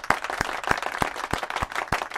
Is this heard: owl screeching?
no